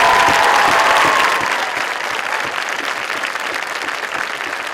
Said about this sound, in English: And let's give them a great big round of applause.